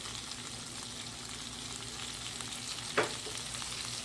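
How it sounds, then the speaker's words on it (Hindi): Onions frying in butter in a pot, a dense steady sizzle at moderate distance with one brief scrape or clink partway through, no voices. "इसी में मैं ये प्याज फ्राई करने लगी हूँ"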